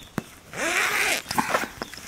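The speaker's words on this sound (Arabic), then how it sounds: "عبارة عن مجرد سوستة تتفتح" A tent zipper on a safari tent in the Masai Mara is pulled open in one steady, loud rasping stroke lasting about half a second, followed by a few soft rustles and clicks.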